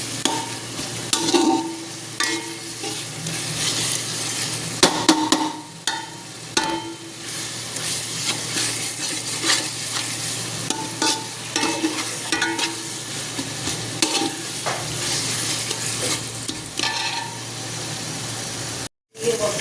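A curry is being sautéed in a pan, a dense close sizzle with repeated scraping stirs and occasional clanks, continuing steadily with a brief dropout near the end.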